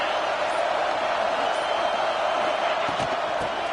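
A stadium crowd roars and cheers for the defense on third down at a football game, a dense, steady wash of noise filling the whole stretch.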